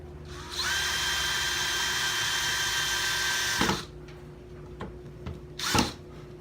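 A power drill pre-drills a hole for a blast gate, whirring steadily at high speed for about three seconds, then stops, followed by a few soft knocks and clicks.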